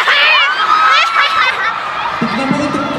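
A concert crowd at the Araneta arena cheers with high shrieks and whoops from many voices at once, loud and continuous. A few voices shout over the mass of noise.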